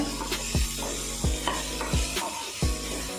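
Okra being sautéed with chillies in a pan gives a steady frying sizzle. Several thudding stirs and scrapes of the spoon land at roughly even intervals, close and clear, with no talking.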